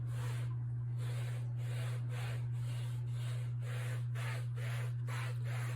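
Soft rhythmic rubbing of a balled-up cloth wiping across a painted canvas, repeated strokes over a steady low hum, close and fairly quiet.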